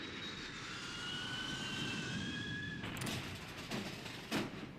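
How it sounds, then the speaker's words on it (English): British carrier planes attack in the strategy game Hearts of Iron 3: a steady jet-engine drone with a thin whining tone, followed by several sharp impacts and thuds near the end; no one talks. "British carrier planes attacking"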